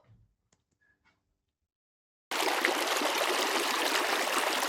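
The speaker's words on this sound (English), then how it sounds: "When we open the valve, water is taken to the water turbine through penstock." Water rushing through a hydro power plant penstock toward the turbine once the valve opens, a steady loud broadband gush that starts abruptly after near-silence with a few faint ticks.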